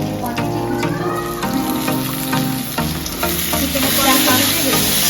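Ginger garlic paste sizzles loudly in a pan with fried onions at home, a steady close crackling fry with stirring scrapes.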